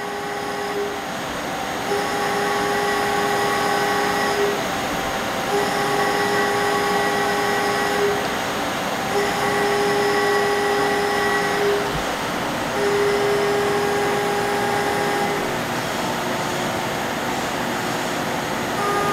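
A shop machine roughing out a dovetail area runs with a loud, steady, tonal whine that is rich in harmonics. The pitch shifts in regular steps every few seconds as it cuts, and no voices are heard.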